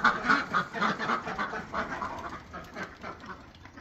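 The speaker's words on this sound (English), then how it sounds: "The ducks are just too loud." Several ducks quack loudly and continuously, overlapping calls close by, gradually quieting toward the end.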